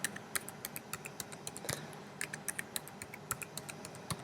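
Rapid keystrokes on a computer keyboard as an admin password is entered, a close, steady run of light clicks with one heavier press partway through, no talking.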